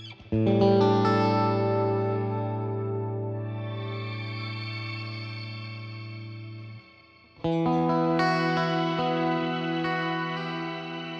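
A sustained guitar chord rings out through a shimmer reverb pedal, its shimmering tail swelling and fading, then a second chord is struck and rings out.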